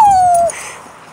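A Shiba dog lets out a single close, high whimper that slides slightly downward in pitch, lasting about half a second before fading into quiet.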